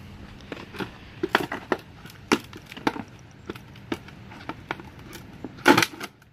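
A person standing and stepping on a Fly Racing motocross helmet shell, giving a series of sharp plastic creaks, cracks and snaps at irregular intervals, close and crisp, with one louder crunch near the end.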